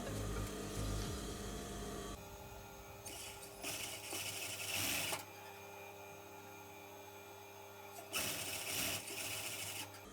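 A sewing machine stitches invisible-thread piping onto a smooth blouse fabric, running in several bursts of steady mechanical whirring that rise and fall in loudness, alone without talk.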